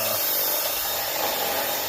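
A hand drill boring out the back of a hard rivet on a deer feeder winch crank, a continuous dense grinding whir held steadily and loud throughout.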